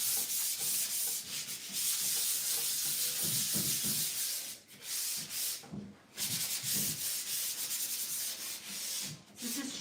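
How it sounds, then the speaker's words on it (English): Repeated light scratchy sanding strokes on painted furniture, close and rhythmic with brief pauses between passes, no talking. "So very light sanding, just to smoothen the paint before I put the transfer."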